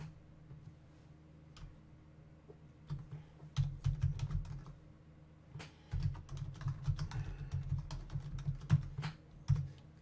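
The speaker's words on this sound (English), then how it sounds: "type in the address for Moodle" Quick bursts of typing on a computer keyboard as a web address is entered on a PC, soft close clicks in uneven runs with short pauses between, fairly quiet and with no talking.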